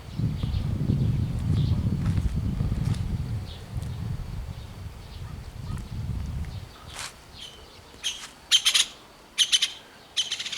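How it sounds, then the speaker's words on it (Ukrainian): Woodpecker in a rural garden giving several sharp bursts of calls near the end, after a stretch of low rumbling and muffled voices, with a flutter suggesting it flying off. "дятел полетел."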